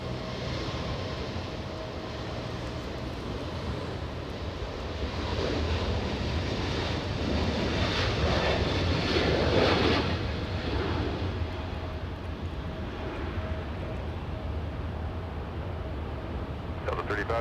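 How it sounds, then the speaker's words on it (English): Delta airliner taking off from Los Angeles International Airport, bound for Salt Lake City, a steady broad jet roar that swells toward the middle and stays constant throughout, with wind buffeting the microphone and a voice talking over it. "And I think we have Delta takeoff. It's flying to Salt Lake City"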